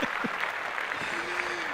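Steady clapping from a small group, a dense even patter across the clip, with brief voices breaking in over it.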